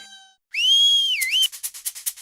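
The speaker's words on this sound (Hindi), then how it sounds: "अरे बावले, सीटी क्यों बजा रहा है?" A person whistles a long sustained note that bends and wavers, then breaks into a string of short rhythmic chirpy whistles, close and clear with no talking.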